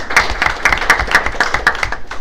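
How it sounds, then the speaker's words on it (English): Steady applause from an audience at a school board meeting honoring a long-serving principal, many hands clapping densely and continuously at close-to-moderate distance. "Let's give him a round of applause"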